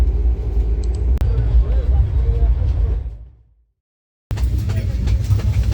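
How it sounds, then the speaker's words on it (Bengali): A train arriving at Siliguri rumbles loudly and steadily with a sharp click, fades out abruptly into silence, then the heavy rolling rumble resumes. "বলতে বলতেই আমাদের ট্রেন শিলিগুড়ি প্ল্যাটফর্ম ছিল"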